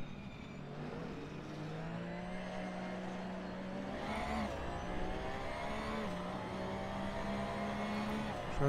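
A race car in Assetto Corsa on PS4 runs at full throttle around Barcelona, its engine holding a steady, buzzing high-rev drone with harmonics that shift as it changes gear, loud and continuous throughout.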